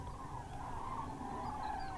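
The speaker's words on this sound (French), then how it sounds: "C'est le bruit des grues que je reconnais." Cranes calling in the distance in the countryside near the Spanish–French border in spring, faint drawn-out trumpeting calls over a low background hush.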